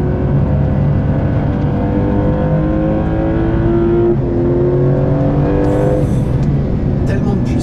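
A 2026 Porsche 911 Turbo S driving at high speed gives a loud, sustained engine roar from inside the car, its pitch climbing through the gears, with a voice faintly under it.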